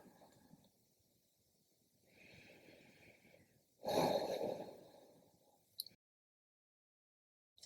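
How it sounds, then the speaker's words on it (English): Breathing in a standing forward fold during a yoga session, a slow soft inhale followed by a louder, close, airy exhale, then a brief click and silence. "standing forward fold. Couple breaths."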